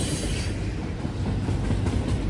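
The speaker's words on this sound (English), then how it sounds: "here's a choo-choo train. It's making lots of noises" Train passing during railfanning in Elkhart, a loud steady rumble and rushing roar of rail cars rolling by close, with faint rhythmic clatter underneath and no talking.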